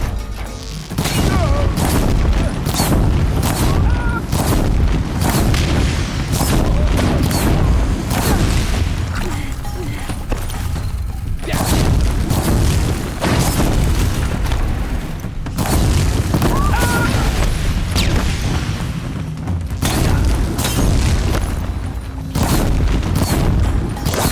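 Gunfire and explosions in Horizon Zero Dawn: The Frozen Wilds crash nonstop, with heavy booms and rapid repeated blasts forming a loud, dense barrage throughout.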